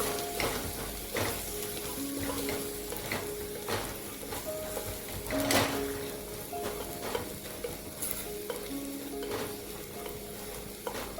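Turmeric, coriander powder, garam masala, byadgi chilli powder and black masala are stirred in hot oil for dry cabbage sabzi. A steady close sizzle runs throughout, broken by repeated scraping strokes of a spoon against the pan, with no talk.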